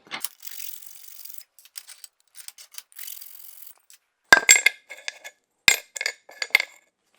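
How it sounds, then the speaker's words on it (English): A metal file scrapes burrs off the backs of metal drawer pulls in short, separate strokes with pauses between them, and a few sharper clinks and rasps come near the end. "we'll just clean up the backs of these with a file because there's a burr from where you drilled your holes"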